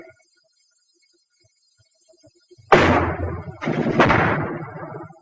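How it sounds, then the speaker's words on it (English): Mortar fire in a 1943 wartime infantry setting: after near silence, a sudden loud blast strikes, followed a second later by a second heavy explosion that rumbles and decays, with no voices. "mortar fire is high-angle fire which can slam down from the sky"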